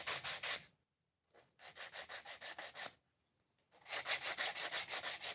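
Hand sanding the edge of a wooden box: three bursts of quick, rhythmic rasping strokes, close and loud, separated by brief pauses.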